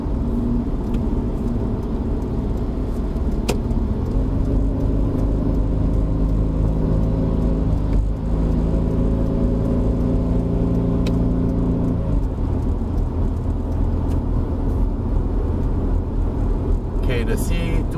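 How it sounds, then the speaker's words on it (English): A 1995 Mercedes-Benz C200 W202 with a 120-horsepower engine strains up a wet hill, its steady loud drone shifting pitch as it labours, with a brief gear change midway and a passing car behind. "The C200 is not known for its power, so we are actually struggling a bit to go up the hill"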